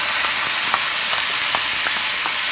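Tomato chutney sizzles and fries steadily in a hot pan with curry leaves while being stirred, a continuous crackling hiss with soft scraping strokes of mixing, close and alone without talk.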